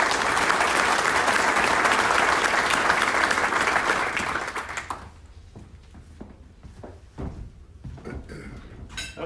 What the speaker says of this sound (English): All of you deserve a round of applause